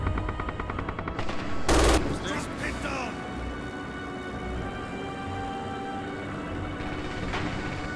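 Machine-gun fire in a video game comes as one short, sharp burst early on, then dies away into quieter ambient game sound with voices.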